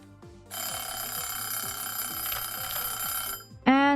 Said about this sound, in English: And that was our hydrate timer.